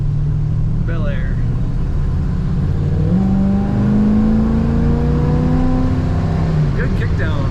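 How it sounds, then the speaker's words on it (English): A 1963 Chevrolet Bel Air engine accelerating on kickdown, its drone rising in pitch and holding strong before easing off, heard from inside the car with brief speech. "Good kickdown, good power from this engine again."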